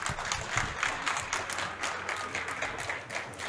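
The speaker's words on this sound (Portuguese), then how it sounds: "Então nós vamos começar com uma salva de palmas para vocês" Audience applause at an aeromedical market conference in Brazil, a dense, steady wash of many hands clapping at moderate loudness, sustained without pause and with no talk over it.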